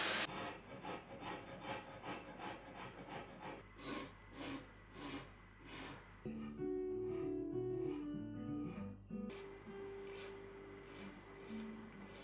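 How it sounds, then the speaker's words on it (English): A wooden baritone guitar body is carved by hand with repeated rasping and scraping strokes in an even rhythm, with a tuneful background part joining midway. "Lines are drawn, and the carving begins."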